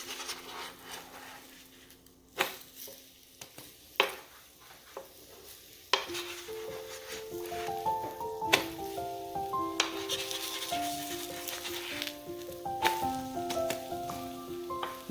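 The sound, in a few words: bread omelette slices frying in a pan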